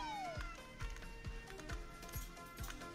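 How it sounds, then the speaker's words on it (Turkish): Cartoonish cat meows from the Vampire Survivors video game, several short downward-sweeping cries repeating at a steady rhythm over busy game music and effects. "Pisiler geldi de..."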